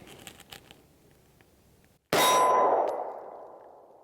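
A single loud shot from an FN Reflex XL pistol at a shooting range cracks out after quiet handling noises, with a ringing metallic clang that decays over about two seconds.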